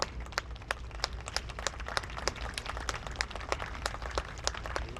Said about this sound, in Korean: 두 무용수에게 여러분 아낌없는 박수 보내주시기 바라겠습니다.